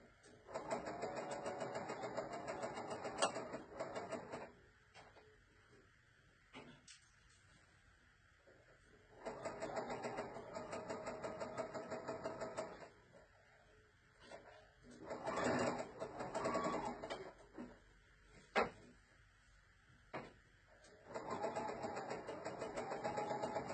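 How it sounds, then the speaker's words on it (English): Sewing machine stitching along the edge of a tea towel, running in several sustained whirring bursts separated by quiet pauses, close and steady, with occasional clicks between runs. "And you just sew right on the edge all the way across."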